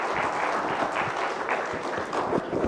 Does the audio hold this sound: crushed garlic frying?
no